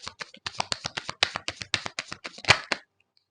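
Tarot cards being shuffled by hand, a quick run of about twenty crisp riffling slaps and taps in uneven rhythm, close and alone, ending with a sharper snap before falling silent.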